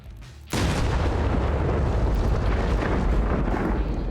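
An Armada tank explodes in the video game Arma Reforger: a sudden loud blast gives way to a sustained, roaring rumble of explosion that fills the rest of the clip.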